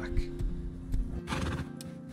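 A horse neighs in the survival video game Rust, a loud whinny over hoof clip-clops and low droning background, with a player's voice speaking briefly alongside.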